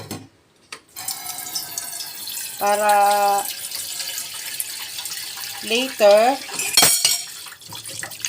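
Tap water runs into a sink to soak vegetables, a steady splashing stream heard close by with brief tonal clinks and a few spoken words over it.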